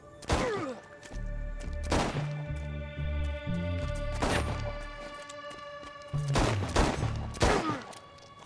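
Rapid bursts of gunfire from a firearm in the video game Chernobylite 2, several loud volleys spaced a few seconds apart over low rumbling game ambience.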